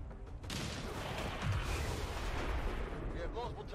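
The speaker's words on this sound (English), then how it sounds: "The relaxed screaming of soldiers and explosions." XCOM 2 combat rattles with dense gunfire and booming explosions, a loud continuous barrage of blasts with a brief high squeal near the end.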